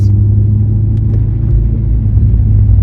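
Loud, steady low engine rumble from inside a car, holding an even pitch with no voices.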